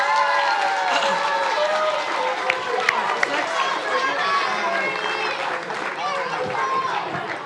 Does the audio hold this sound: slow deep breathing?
no